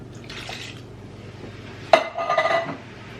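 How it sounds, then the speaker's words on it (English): Canned diced tomatoes go into a pot of chili: a sharp metallic clank followed by a brief wet, slopping pour, fairly close, over quiet background and no talk. "now we're going to go in with our diced tomatoes"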